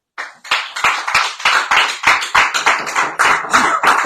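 Close, loud clapping from a small group, sharp separate claps in a quick, fairly even rhythm, with no talking.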